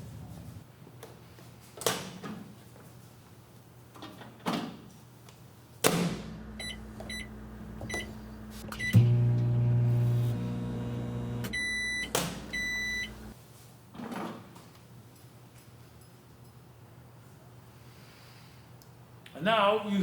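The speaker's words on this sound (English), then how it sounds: "We'll just put it in the microwave to soften it up a little bit." Microwave oven running to soften a quart of ice cream, a steady low hum lasting several seconds with a beep near the end, set between stretches of talking.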